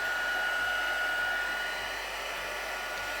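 A heat tool blows steadily to melt embossing powder on a card, a constant airy whirring hum with a faint high whine, moderately quiet and uninterrupted throughout.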